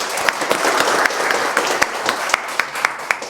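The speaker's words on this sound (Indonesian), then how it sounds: "Mantap sekali, tepuk tangan." Audience applause during a lecture: a crowd of hands clapping steadily and loudly, with distinct sharp individual claps standing out at a regular rhythm.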